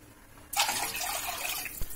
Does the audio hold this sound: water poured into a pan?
yes